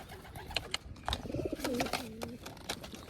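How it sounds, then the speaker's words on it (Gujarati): Pigeons coo close by in soft, throaty rolling phrases, mixed with rustling, shuffling and a few clicks from handling or a cage. "કબૂતર જતી ગયું છે"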